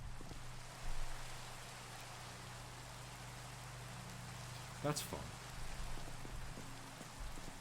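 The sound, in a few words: rain falling in Minecraft video game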